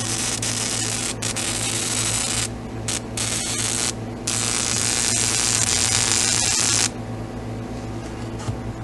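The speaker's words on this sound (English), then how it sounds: "whenever I turn on transformer 2, there is a significantly larger arc." High-voltage arc from home-made capacitors driven by a transformer: a loud, steady buzzing hiss that sustains for several seconds with brief dropouts, then cuts to a quieter hum toward the end.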